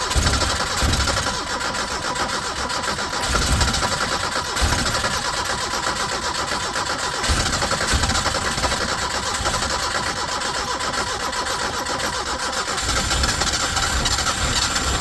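A 1980 Chevy Luv pickup, abandoned since 1998, has its engine cranked and brought to life, running as a steady, loud, buzzing mechanical drone that continues throughout without voices.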